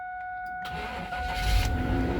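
A 2000 GMC Yukon Denali starts after a battery replacement. A steady electronic tone is heard first, then the engine cranks briefly, catches and settles into a louder, rumbling idle, close and alone.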